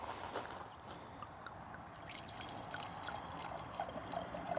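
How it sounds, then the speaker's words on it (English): Assyrtiko Greek white wine pours into a glass in a soft, continuous trickle, quiet and close, with faint small splashes toward the end. "All right, let's pour this up."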